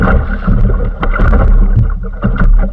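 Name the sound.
wave hitting a small boat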